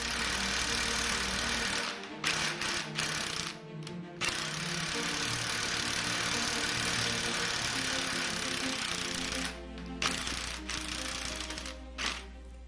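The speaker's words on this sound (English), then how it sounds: "As the tap cuts the threads, the chips build up." A tap cuts threads in stainless steel in a fabrication shop, giving a continuous machine whir broken by brief pauses and clicks as it stops and reverses.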